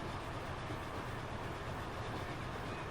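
Train running along track in Transport Fever 2, a faint, steady rumbling roll with no talk.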